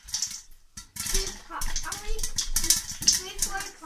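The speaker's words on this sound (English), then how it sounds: "when the kernels start popping, what you want to start doing is start kind of moving the pot around a little bit" Metal pot shaken over a stovetop burner while popcorn kernels pop inside, giving a close, busy clatter of rattling kernels and sharp pops with steady bursts of scraping; someone talks in the background.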